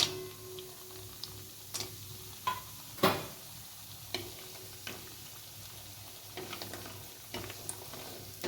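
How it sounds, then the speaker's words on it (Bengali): Sun-dried black gram lentil bori fry in hot mustard oil in a kadai, giving a soft sizzle broken by sparse, sharp crackles and pops at irregular intervals, close and fairly quiet. "প্রথমে আমি ডালের বড়িগুলো ভেজে নেব।"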